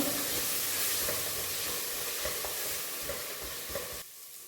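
A spoonful of ginger garlic paste hisses and sizzles in hot oil in a pan for millet dal khichdi, a steady close frying crackle with light stirring that cuts off abruptly at the end.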